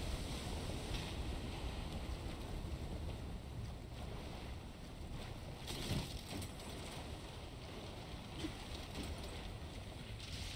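Steady rushing water and wind-like wash in Bioshock as a suitcase is carried along by the flow, a continuous broadband roar with no talk.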